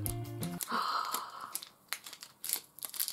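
Tootsie Roll candy wrapper being twisted open, with close, crisp crinkling and tearing bursts in short irregular handfuls.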